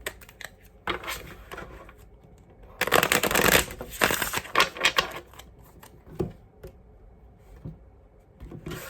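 Close, crisp shuffling of a card deck in several quick bursts, the loudest in the middle, with no voices.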